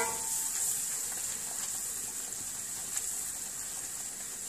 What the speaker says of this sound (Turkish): Eriyen tereyağımızın içine unumu ekledim. Unumu hafif pembeleşinceye kadar kavuracağım.